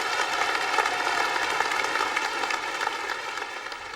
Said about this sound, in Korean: 여러분 따뜻한 격려의 박수를 부탁드립니다.